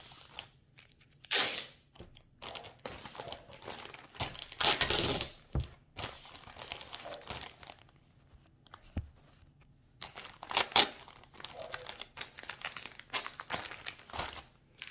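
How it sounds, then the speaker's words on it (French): Sticky tape pulled off its roll and pressed down to seal a Vinted parcel, heard as a series of close, crackling tearing and crinkling bursts at an uneven pace, with rustling packaging between strips. "Et je vais commencer à scotcher."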